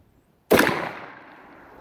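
A single loud Remington shotgun blast firing SAR buckshot outdoors, a sharp sudden crack followed by a decaying rumble and echo, with no talk.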